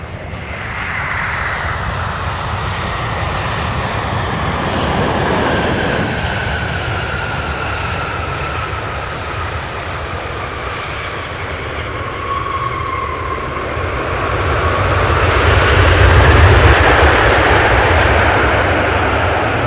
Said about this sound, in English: All right, so this here, a 767 out of Dallas Fort Worth, UPS 793.